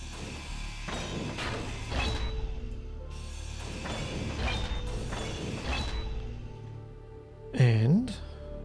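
Grinder tool cutting down a block in the space survival game Space Engineers, a grinding mechanical whir in repeated surges with creaking, clunking metal, ending in a short rising whine.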